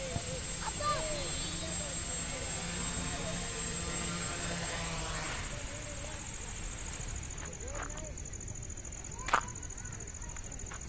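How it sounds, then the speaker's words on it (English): A Pixhawk-controlled quadcopter drone flying in loiter mode gives a steady high-pitched motor whine with shifting buzzy harmonics, sustained throughout and rising and falling slightly as it holds position, with a short sharp click near the end. "So now I am flying in loiter mode."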